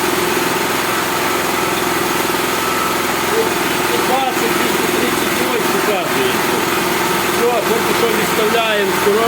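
A portable generator's engine runs steadily at close range, a continuous buzzing drone throughout with a few faint clicks and knocks on top.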